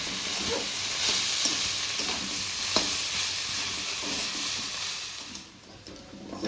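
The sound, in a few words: stirring mustard greens with fried potato and eggplant in pan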